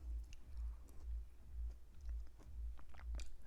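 Crunchy noodles from a vegan pumpkin noodle soup are chewed close up, a steady rhythmic series of soft crunches and bites with no talking.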